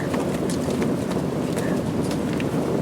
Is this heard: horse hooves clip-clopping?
yes